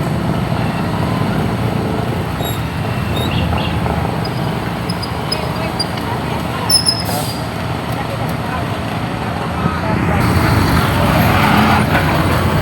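Power generators run steadily during a power outage, a loud continuous engine drone that never lets up, joined by a slightly louder layer near the end, with brief faint voices in the background.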